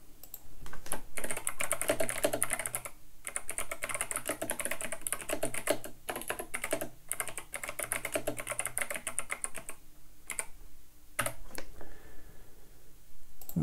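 Someone types on a computer keyboard in quick, uneven bursts of clicking keys, close and clear, with brief pauses between runs of keystrokes.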